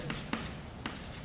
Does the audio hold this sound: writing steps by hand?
yes